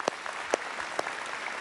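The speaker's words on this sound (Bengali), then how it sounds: "বাহ, খুব জোরে হাততালি হয়ে যাক।" A few scattered hand claps ring out at a Bengali family game show, sparse and close rather than a full crowd ovation.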